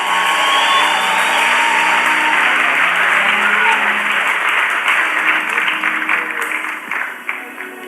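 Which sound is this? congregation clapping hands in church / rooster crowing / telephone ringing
congregation clapping hands in church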